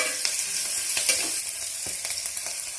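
Vegetables sizzling and frying in a pan for an aloo, baingan and mooli sabzi made without onion or garlic, a steady close hiss with small crackles throughout and no voices.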